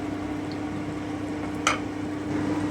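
Spiced masala for a tangra fish curry with fenugreek seeds fries in oil in a pan, giving a steady soft sizzle with one brief scrape of stirring partway through.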